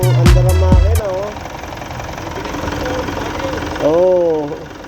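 A Mitsubishi Montero Gen 2 engine idles after a top overhaul for overheating, a steady low rumble running throughout beneath several voices talking nearby.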